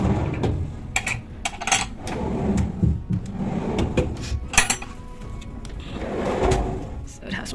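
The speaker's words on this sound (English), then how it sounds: "So this is the cupboard, and when we open the cupboard the light turns on." Cupboard doors and drawers open and close in a furnished room, giving a series of sharp wooden knocks and slides, some clustered together, while a person talks nearby throughout.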